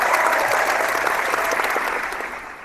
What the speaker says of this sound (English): Can we get the round of applause in here, man? Let me get the Google effects going.